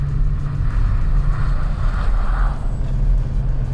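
Audi RS4 Avant drifting on a frozen ice lake: a steady, loud, close engine drone with deep low rumble, holding a sustained tone with slight rising and falling through the slide.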